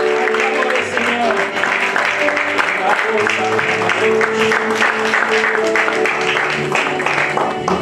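A church congregation applauding during worship, sustained dense clapping over music, loud and continuous, with a voice speaking over it.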